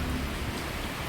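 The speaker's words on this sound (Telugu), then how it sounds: "వర్షం పడుతుంది" Steady rain pouring outside, heard from indoors as a loud, dense wash of hiss with a low rumble underneath and no voices.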